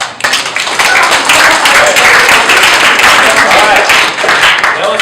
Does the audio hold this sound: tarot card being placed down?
no